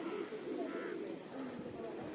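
Pigeons perched up high near a river mouth by the sea coo softly in the background, low murmuring calls mixed with outdoor ambience and some faint voices.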